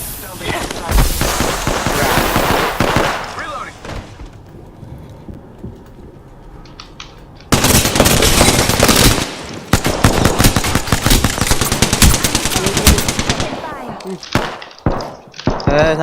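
Automatic gunfire from the Apex Legends video game, loud rapid bursts in two main stretches separated by a quieter pause, with the player talking over the action.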